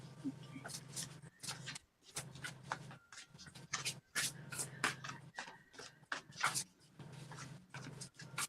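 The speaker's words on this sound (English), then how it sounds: "Some of these cards are so loud to shuffle." Tarot cards being shuffled in the hands, repeated quick riffling bursts with short gaps between them, close and fairly crisp over a low hum.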